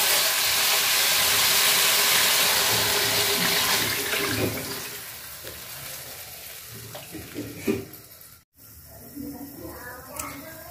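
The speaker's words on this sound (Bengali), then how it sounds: "তো এখন আমি ঝোলের পানি দিয়ে দিব।" Water is poured into a pan of cauliflower frying for a tilapia curry, setting off a loud, steady hiss and sizzle that gradually fades over several seconds into quieter bubbling with a few clinks.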